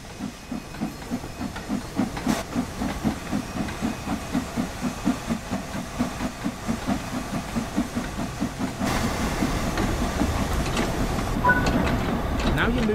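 An LMS Stanier 8F steam locomotive in Train Sim World 3 starts away slowly, its chuffs coming in a steady, gradually quickening rhythm under a constant loud hiss of steam, with a rush of venting steam later.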